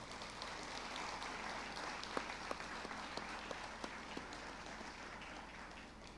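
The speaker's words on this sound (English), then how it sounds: "please join me in thanking them with a round of applause as well" An audience at the 2024 Kearsarge High School senior awards ceremony gives a round of applause, a steady wash of many hands clapping with a few sharper claps standing out, heard from some distance and fairly soft.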